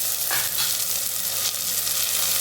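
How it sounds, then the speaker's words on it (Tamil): Curry leaves and raw jackfruit kurma sautéed in a pan: a loud, steady close sizzle of frying with faint stirring scrapes, no talk. "எல்லாத்தையும் நல்லா வதக்கி விடுங்க."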